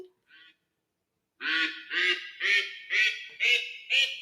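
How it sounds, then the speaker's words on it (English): A series of six loud, evenly spaced duck quacks, nasal and close, following a brief softer call. "maybe play a quack sound"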